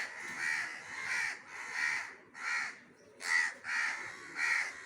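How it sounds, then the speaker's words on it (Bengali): Crows caw repeatedly and loudly nearby at monkeys (langurs) eating drumstick-tree leaves, in steady bursts of harsh calls with short gaps. "কাকগুলো খুব ডাকছে ওদের দেখে চারিদিকে"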